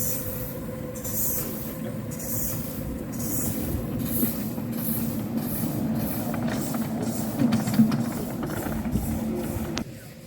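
Romulus type miniature locomotive running around a track at Northcliff woods, with a rumbling wheel-and-rail roll, rhythmic clicks over rail joints and a brief squeal, passing close and fairly loud.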